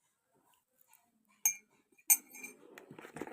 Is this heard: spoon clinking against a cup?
yes